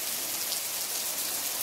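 Steady rain falling outdoors, a dense even hiss of drops with no pauses and no voices.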